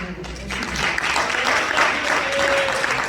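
A church congregation applauding during a service, a steady, full wash of clapping that fills the space at moderate loudness, with a faint tone briefly audible underneath.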